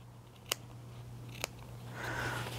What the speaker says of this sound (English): all I'm doing is just snipping away a little bit more